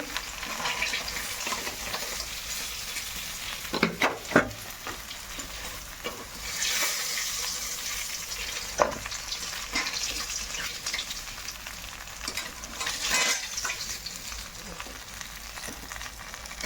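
Steady, dense sizzling of a fish head frying in hot oil throughout, with occasional clinks and stirring scrapes rising above the continuous crackle.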